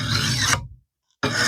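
A hand file rasps across a hedge trimmer blade in one close, gritty stroke, then breaks off into a short silence before the scraping resumes.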